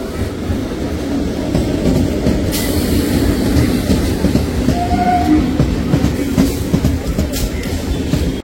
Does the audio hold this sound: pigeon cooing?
no